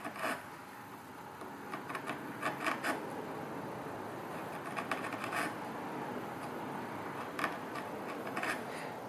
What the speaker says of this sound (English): let's try the round gouge here